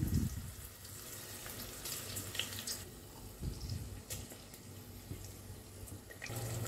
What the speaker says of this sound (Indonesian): Tumis sampai bumbunya matang dan harum.